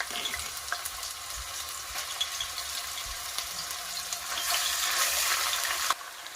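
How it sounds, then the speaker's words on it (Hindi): Garlic ginger paste frying in a pan for aloo kofta curry, giving a steady close sizzle with soft stirring scrapes that swells louder toward the end. "मैं इसके अंदर पहले 2 टेबलस्पून लहसुन अदरक का पेस्ट डाल रही हूँ"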